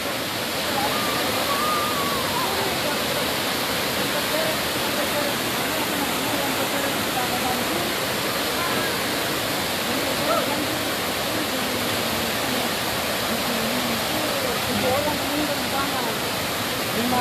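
A tiered, cascading waterfall at Ussu in East Luwu gives off a constant rushing roar, heard up close and continuous with no breaks.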